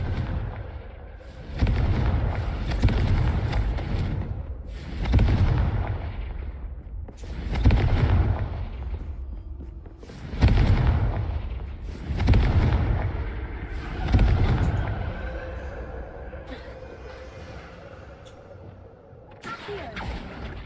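Confringo fire spells in the video game Hogwarts Legacy set off a series of about seven loud, booming explosions at regular intervals, each swelling then fading, with faint game ambience between blasts.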